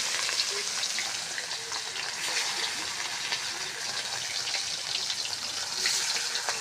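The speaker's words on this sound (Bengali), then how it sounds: "আমি মাছ বসাই দিচ্ছি তেলটা পুরো গরম হয়ে গেছে" Fish frying in very hot oil, a dense continuous sizzle with crackling spatters throughout, close and steady with no voices.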